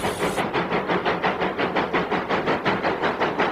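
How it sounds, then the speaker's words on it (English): A steam locomotive chugs along underway, its rhythmic exhaust puffs and hissing steam repeating evenly at a brisk pace, loud and close, with a burst of hiss at the start. "Once a steam train is underway, it looks and sounds like nothing else."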